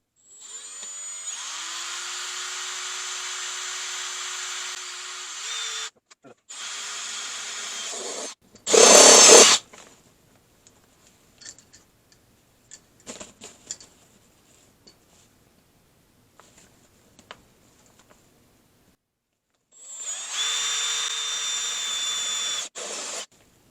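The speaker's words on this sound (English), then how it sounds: "So I'm going to drill a couple holes in this thing." A power drill bores holes into a Harbor Freight clamp, running in several sustained whining bursts with short pauses between them, one harsh grinding burst and long quiet stretches with faint handling clicks.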